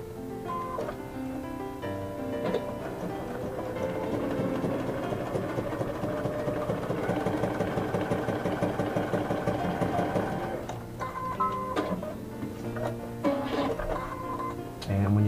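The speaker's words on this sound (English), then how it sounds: "Cut leather, it does shave a little bit, so make sure you keep your sewing machine clean." A Baby Lock Ellisimo sewing machine stitches a leather seam, producing a rapid, even mechanical patter that builds for several seconds and stops, with a person talking before and after.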